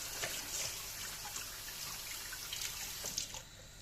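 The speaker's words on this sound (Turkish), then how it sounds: "Şöyle iyice yıkayalım akarsuda." Grape leaves being washed under running tap water, a steady splashing stream with small drips and trickles, close and continuous without talk.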